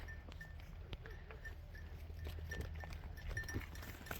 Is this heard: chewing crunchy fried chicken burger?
no